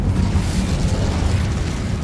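An Incendio fire spell cast in the Hogwarts Legacy video game, a brief loud rumbling roar of flame with a dense low crackling burst.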